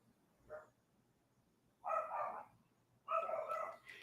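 A dog barks three times, one short yap followed by two longer barks, fairly faint and at some distance in an otherwise quiet space.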